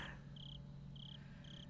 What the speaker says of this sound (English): this is the crickets in the game